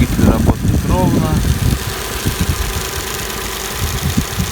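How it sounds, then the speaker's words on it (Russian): A Daewoo Matiz engine idles steadily and close by after a throttle body service, a continuous low rumble that stays even throughout, with someone talking over the first couple of seconds. "Двигатель работает ровно."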